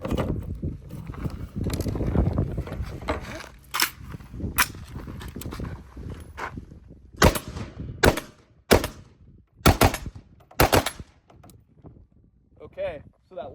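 Rifle fitted with a newly installed UB muzzle brake fires a series of sharp, loud shots, single and doubled, in the second half. Voices talk over a noisy stretch before the shots begin.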